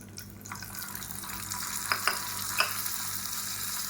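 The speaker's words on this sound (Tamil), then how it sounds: "கடுகு உளுந்து கருவேப்பிலை தாளிச்சிருக்கேன், சட்னியில் கொட்டிக்கலாம்." Hot tempering of mustard seeds, urad dal and curry leaves poured into a tomato-mint chutney, giving a close, steady sizzle and fizz with a few sharp crackling pops partway through.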